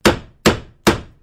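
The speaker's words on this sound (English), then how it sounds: "There's nothing better than the sound of a hammer," A hammer strikes three times in steady, evenly spaced blows, each a sharp, bright crack with a short ringing decay, close and alone with no talk.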